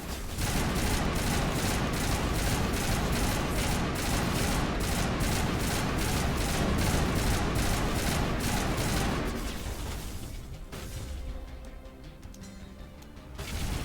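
Rapid assault rifle fire from Mass Effect Legendary Edition with the Overkill ability active, a loud, sustained stream of shots for about nine seconds that breaks off into quieter game sounds before a final burst.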